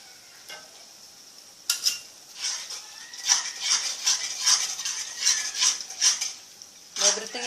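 A utensil scrapes and clinks against a pan while potatoes are stirred with Worcester and tomato sauce, producing repeated metallic taps in a loose rhythm over a quiet sizzle, close by.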